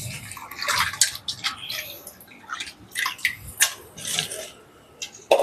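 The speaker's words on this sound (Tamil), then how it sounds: "இந்த தண்ணி வெள்ளையாகிற வரைக்கும் ஒரு 3-4 டைம்ஸ் வந்து நல்லா கழுவணும்." Raw prawns are washed by hand in a bowl of water, giving irregular splashes, drips and sloshing bursts up close with no talk.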